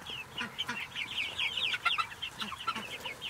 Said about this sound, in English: But these meat birds are doing awesome.